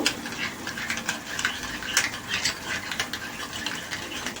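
White mustard paste is stirred and mixed in a bowl for a mixed vegetable dish, with repeated scraping and clicking strokes of a spoon in an irregular rhythm, fairly close and without talk.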